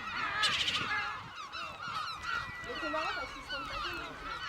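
Lesser black-backed gulls call over a breeding colony on a Breton island, a dense chorus of loud honking, laughing cries overlapping continuously and fairly close, with some talk underneath.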